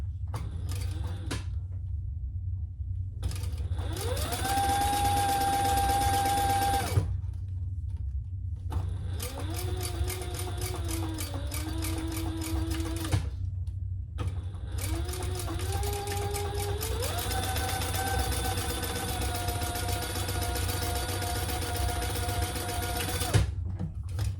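A sewing machine stitches a crossbody bag in repeated runs of fast, even mechanical whirring with rising motor whine, separated by brief stops, over a constant low hum, close and without talk.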